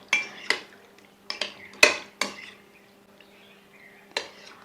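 Metal spoon clinks and scrapes against a bowl while butter chicken marinade with chicken pieces is stirred, giving about a dozen sharp, close clinks in an irregular rhythm over a quiet background.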